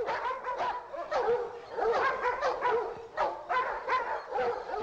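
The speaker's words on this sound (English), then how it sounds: "Nice dogs, nice dogs, nice dogs." Several dogs bark loudly and continuously close by, with overlapping yips and whimpers forming a dense, unbroken clamor.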